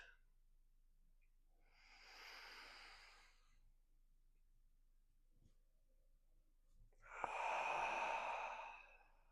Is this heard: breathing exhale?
yes